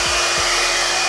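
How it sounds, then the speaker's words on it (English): A Conair Infiniti PRO Spin Air brush dries hair with a steady, loud, close blowing whoosh and a constant motor hum, heard alone throughout. "It dries and curls the hair."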